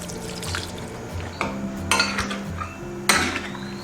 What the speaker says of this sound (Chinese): 现在我们给它焯水一下，开水入锅，拿出我们家最大的锅